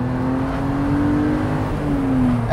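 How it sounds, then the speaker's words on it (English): A preproduction BMW Z3 3.0i roadster pulls hard in second gear under heavy throttle, the engine note climbing steadily and smoothly, heard from inside at moderate loudness with no talk. "Into second, hard throttle."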